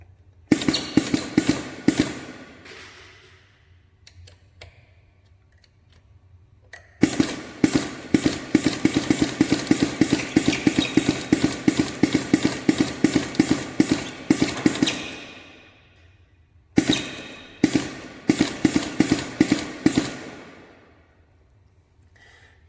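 A radial component feeder with an ASM Siplace X interface advances its component tape in three runs of rapid, regular mechanical clicking and ratcheting, loud and close, with short quiet pauses between runs.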